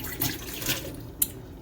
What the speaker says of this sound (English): now I'm just going to pour in this can of green beans